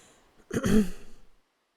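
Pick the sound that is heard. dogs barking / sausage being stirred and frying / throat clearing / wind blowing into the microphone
throat clearing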